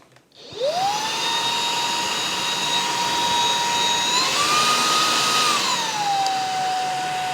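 A Jashen V16 cordless vacuum cleaner starts up with a rising whine, then runs steadily and loudly at medium suction, its pitch stepping up briefly before settling back down, with no talking.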